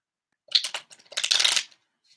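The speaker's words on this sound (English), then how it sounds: "I'm going to shuffle them" A deck of cards is shuffled nearby in two quick bursts of crisp riffling and flicking, separated by a short pause, with silence before and after.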